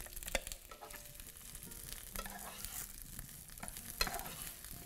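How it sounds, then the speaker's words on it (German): Boiled, drained potatoes fry in hot coconut oil in a pan, a soft continuous sizzle broken by occasional scraping stirs and light clinks, close and with no talking. "Ich erhitze nochmal etwas Kokosöl in der Pfanne. Jetzt gebe ich die Kartoffeln dazu."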